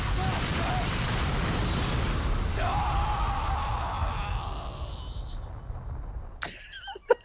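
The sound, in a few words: character scream in a video game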